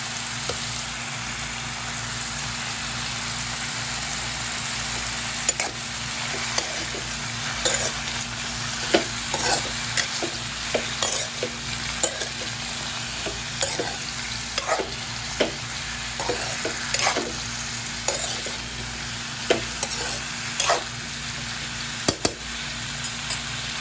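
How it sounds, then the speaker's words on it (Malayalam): Avial vegetables tossed in a pan with coconut oil in a Kerala kitchen: a steady sizzle with repeated scraping stirs of a spatula at an irregular rhythm, close and fairly loud, without voices. "വെളിച്ചെണ്ണ പിടിക്കുന്ന വിധം ഇളക്കി കൊടുക്കാം"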